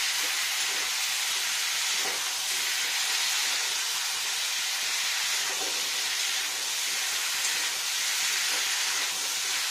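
Salted potatoes fry in a pan for Bengali aloo posto, letting off a loud, continuous sizzling hiss that stays steady throughout, with faint crackles rising and falling underneath.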